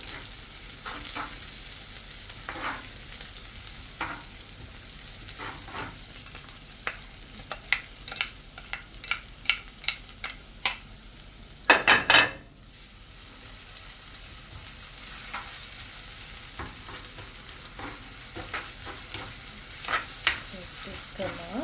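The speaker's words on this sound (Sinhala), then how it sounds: "ඒක බැදගෙන එනකොට මම ඒකට දානවා තලාගත්ත සුදු ලුණු ඉඟුරු" Steady sizzling of crushed garlic and ginger frying in hot coconut oil, with a burst of louder crackling and clatter midway, then a softer, even sizzle.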